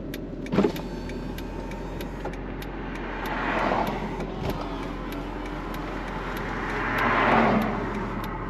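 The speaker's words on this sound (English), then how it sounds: "That's how quickly the roof goes down on this car." A 2006 BMW M Roadster's electric motor whirs steadily in two long swells as the convertible roof folds back, with faint clicks and a soft thump near the start.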